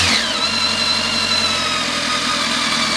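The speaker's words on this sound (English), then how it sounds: "Idle control valve's working. It's pumping it up and then lowering it slowly." A BMW K1300S motorcycle engine idles close by, its steady mid-pitched throb holding even and loud throughout, with a faint whine riding on top and no voices.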